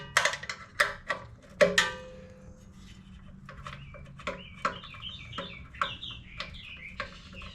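Birds calling outdoors on a morning, a run of sharp clucking and chattering calls with quick chirps, fairly close and uneven in rhythm, with no talk over them.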